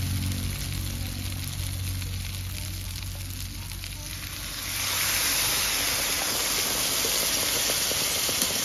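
Water poured into a pan of sizzling shrimp and taro stolon curry with mustard paste sets off a sudden, louder burst of hissing steam after a steady sizzle, continuing as a broad close fizz.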